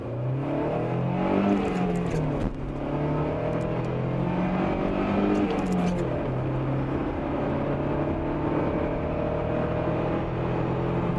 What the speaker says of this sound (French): Et là, on va faire une petite accélération.